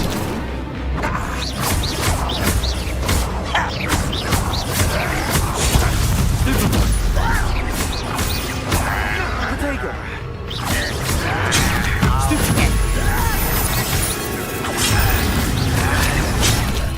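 A fiery Incendio spell is cast in Hogwarts Legacy, a loud whooshing burst with booming, crashing impacts amid battle noise, while voices speak over the action.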